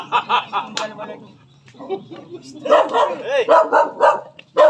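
A dog barks several times close by in short repeated bursts, mixed with people talking and chuckling.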